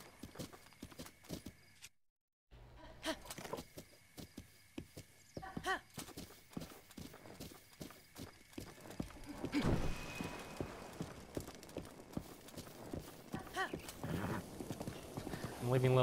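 Rapid hoof clip-clop of a galloping horse in The Legend of Zelda: Breath of the Wild, steady rhythmic beats under a voice talking, with clanks and a whinny.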